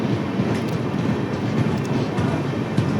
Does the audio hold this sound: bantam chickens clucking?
no